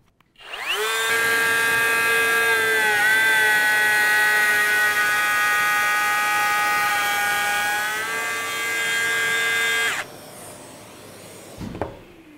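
Bosch GKF 18V-8 cordless edge router cutting with dust extraction attached, a loud, steady high-pitched motor whine that dips briefly under load, holds for several seconds, then stops, followed by a faint knock.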